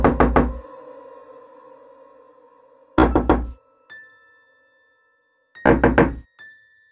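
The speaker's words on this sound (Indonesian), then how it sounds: "mendengar suara ketukan di pintu" Three separate bursts of sharp knocks on a wooden door, each a quick run of raps, with faint tonal effects ringing between them in a quiet horror audio drama.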